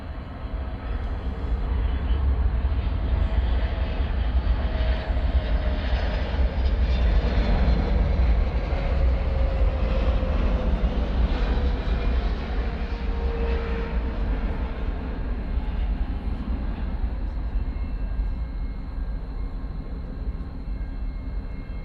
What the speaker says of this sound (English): What you're looking at here is an American Airlines 777-300ER coming in from London.